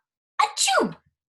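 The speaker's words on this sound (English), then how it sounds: "The cat next to me makes me sneeze." A single sharp sneeze, loud and close, with a quick inhaled burst followed by the explosive release, alone with no other sound around it.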